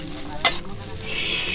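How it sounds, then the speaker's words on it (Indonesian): Leftover rice fries for nasi goreng at a campsite, a steady close sizzle with a sharp scrape of stirring partway through and the frying hiss swelling toward the end. "Itu loh nasi sisa malam yang digoreng pagi-pagi"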